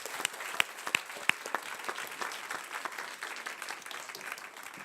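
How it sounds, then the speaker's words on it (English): Audience applause at a science communication competition semi-final, a few sharp close claps at the start swelling into steady, moderately faint clapping from a crowd that continues evenly to the end. "please link your brains and your hands to applaud Marius Palanskis"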